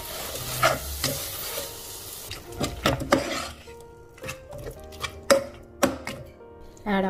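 Mutton biryani masala being mixed with curd in a pan or bowl, uneven bursts of scraping and spoon clatter against the vessel with quiet pauses between strokes, close by and without talk.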